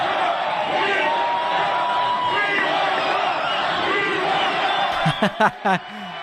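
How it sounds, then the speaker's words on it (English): Boxing match audience in an arena, a dense sustained crowd roar of screaming and cheering throughout, with a few sharp loud shouts or whoops bursting out near the end. "Everybody's screaming right now."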